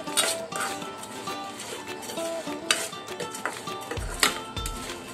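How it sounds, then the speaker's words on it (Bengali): Spoon stirring fried boondi through sugar syrup in a metal pot, a steady run of light clinks and scrapes with soft wet churning, close and fairly quiet. "খুব ভালোভাবে এটাকে চিনি সিরার সাথে মিশিয়ে নিতে হবে।"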